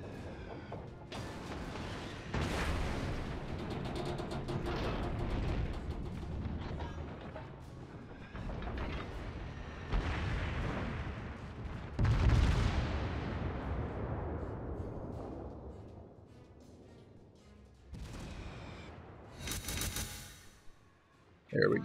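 Heavy battleship gun salvos in World of Warships, long rumbling booms and rolling blasts one after another across the span, with a sharp crack near the end.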